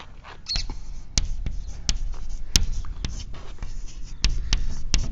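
Chalk or marker taps and scratches on a board during a physics lecture, a series of sharp, irregular clicks and short scraping strokes close by over a quiet room.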